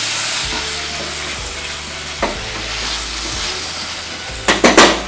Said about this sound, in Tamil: இப்போ இது வந்து எண்ணெய் பிரிஞ்சு வர அளவுக்கு சிம்லேயே கொதிக்கிட்டோம்.